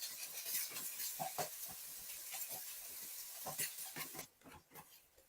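Mushrooms stir-fried with beef and onion in a pan, a steady sizzle and hiss with repeated scraping strokes of a spatula, close and fairly quiet, with no talking.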